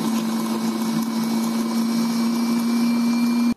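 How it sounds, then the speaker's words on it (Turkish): Food processor motor running steadily while finely chopping red peppers for a winter pepper sauce, a loud continuous whirring hum that stops abruptly at the end, with no talking. "Şimdi robotum dolana kadar doğradıktan sonra robottan geçiriyorum."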